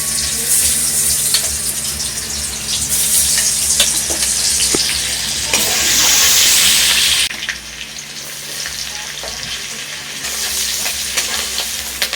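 Chopped garlic sizzles steadily in a mix of butter and white cooking oil for a homemade pasta, a loud, continuous frying hiss with occasional small clicks, no voices.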